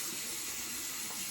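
A tap runs lukewarm water into a sink in a steady, close, even hiss-and-splash stream with no pauses and no talk.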